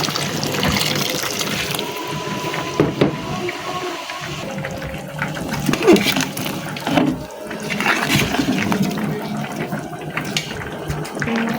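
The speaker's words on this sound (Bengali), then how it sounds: "গরম পানি দিয়ে দিতেছি।" Hot water pours into a cooking pot of braised pigeon meat and potatoes, a steady close rushing splash with some clattering and clinks throughout, no talk.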